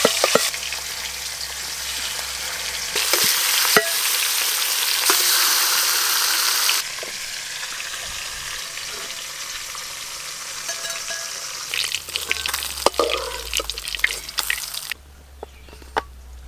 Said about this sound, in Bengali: আর একবার দিলে সব মাছ ভাজা হয়ে যাবে।